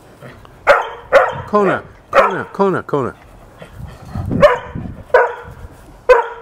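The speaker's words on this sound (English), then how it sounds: "You bark too much." A Newfoundland dog barks in a series of loud, close deep woofs with pants between them, roughly a dozen bursts in an uneven rhythm, while a person speaks nearby.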